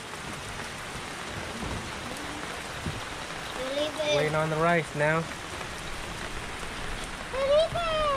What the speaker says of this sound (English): Started to downpour on us as we were cooking.